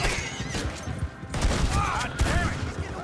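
Shotgun blasts and gunfire in Red Dead Redemption 2, with heavy booming shots mixed with horse whinnies and shouting voices in a chaotic, loud fight.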